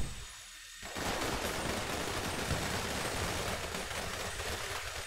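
Dense, sustained gunfire in GTA 5 starts after a brief near-silent opening and then rattles on loudly and continuously to the end as a chaotic fusillade.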